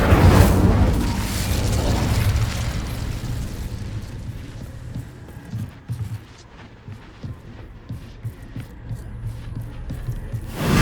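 An Incendio fire spell from Hogwarts Legacy roars as a dense, rumbling burst of flame and impacts, loud at first and then settling into crackling, popping bursts at a lower level, with no talking.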